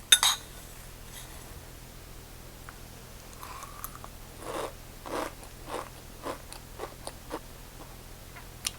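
Crisp bites and crunches of fried besan sev (omapodi) come in a series of short bursts, each crackly chew separated by brief pauses, close up and fairly quiet.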